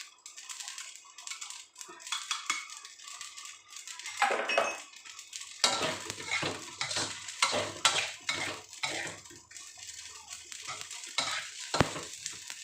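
Ten spoons of chilies stir-fried in a pan for spicy minced pork holy basil with glass noodles, with a quiet opening before loud scraping, clinking strokes and steady sizzling fill the rest.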